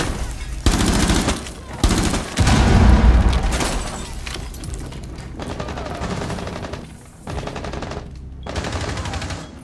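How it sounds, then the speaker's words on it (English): Rainbow Six Siege gunfire erupts in loud, rapid automatic bursts with heavy booms, several volleys separated by brief lulls, close and dense throughout. "someone is shooting at me"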